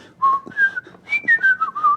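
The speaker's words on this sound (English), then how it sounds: "I'm enjoying my own whistle." A person whistles a lively, wavering tune in short bursts, clear and close, with no talking.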